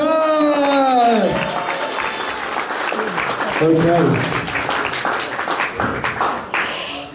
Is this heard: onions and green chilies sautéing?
no